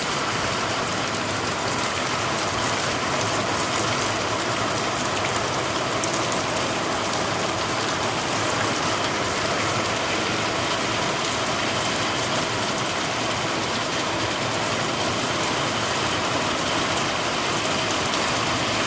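Heavy unseasonal rain in late December over farmland in Vav-Tharad district, a dense continuous hiss of downpour drumming steadily on surfaces, loud and unbroken throughout.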